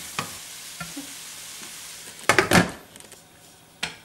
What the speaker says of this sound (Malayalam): ഈ ഉള്ളി നന്നായിട്ടൊന്ന് ഇളക്കിയിട്ട് ഇതൊന്ന് അടച്ചു വെച്ചാൽ എളുപ്പം വയണ്ട് കിട്ടും.